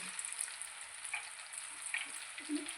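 French fries frying in hot oil, a faint, steady hiss of bubbling fat with small soft pops, quiet and even throughout.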